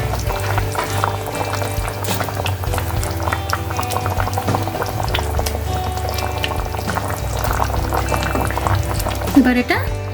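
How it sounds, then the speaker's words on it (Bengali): Shol fish curry boils on a medium flame with steady close bubbling and popping, a continuous liquid churn lasting about ten seconds, with a voice talking over it. "এবার এটা কিছুক্ষণ মিডিয়াম ফ্লেমে বয়েল হবে।"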